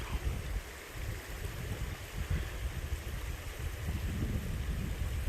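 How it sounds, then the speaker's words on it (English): A small babbling brook running outdoors, a steady rushing and gurgling of water with mild swells and some wind buffeting, moderately close and without speech. "Nice little babbling brook."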